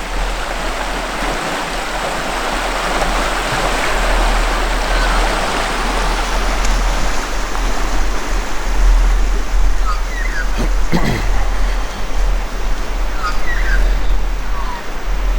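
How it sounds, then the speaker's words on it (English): The Hopewell River flows past in a steady, loud rushing wash, continuous and close, with a brief faint voice partway through. "Beautiful Hopewell River."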